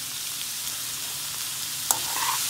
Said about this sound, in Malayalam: നന്നായിട്ട് പതുക്കെ പതുക്കെ ഇളക്കുക